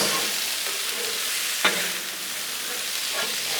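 Peppers and onions with fajita seasoning sizzle on a Blackstone griddle as they are mixed, a steady hiss with a few scraping clicks from the spatula, close and loud with no talk.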